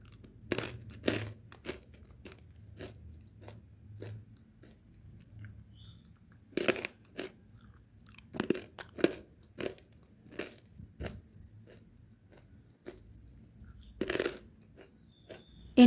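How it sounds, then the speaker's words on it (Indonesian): Crispy twisted onion crackers (kue bawang) are bitten and chewed up close, producing sharp, irregular crunches and crackles, with louder bites near the start, middle and end and quieter chewing between, no speech. "Ini kue bawangnya renyah dan juga gurih"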